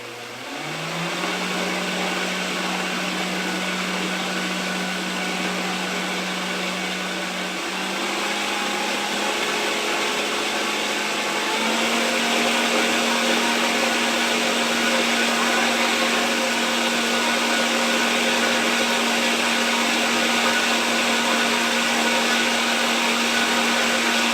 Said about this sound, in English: So it does blend pretty quickly, pretty well.